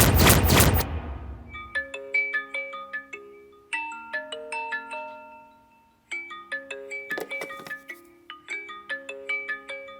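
A mobile phone rings with an incoming call, a bright melodic ringtone of repeating chime notes looping for several seconds after a brief loud burst at the start, with no speech.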